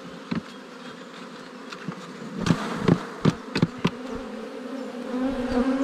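A small honeybee colony trying to swarm hums steadily as frames are shaken off, with several sharp knocks and thumps cutting through the continuous close buzzing.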